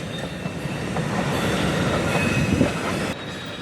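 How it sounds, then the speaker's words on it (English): A Florida East Coast freight train hauling rock hoppers rolls past close by, a steady rumbling roar of wheels and wagons with faint squeals, continuous for a few seconds with no talking. "And off this train goes to Fort Pierce, Florida"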